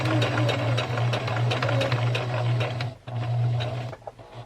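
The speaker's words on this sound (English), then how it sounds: "So I'll just keep kind of moving my fabric so I don't sew over any creases." A sewing machine stitches fabric for a fall scarecrow gnome craft, a steady close whirring hum with rapid needle ticking that runs continuously, pauses briefly near the middle, then resumes at the same pace.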